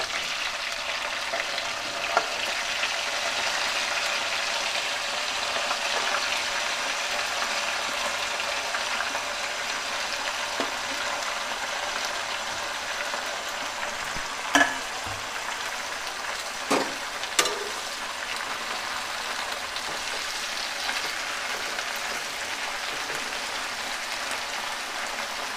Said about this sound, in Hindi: देखिए प्याज हाफ फ्राई हुआ है, इसे ज़्यादा नहीं फ्राई करेंगे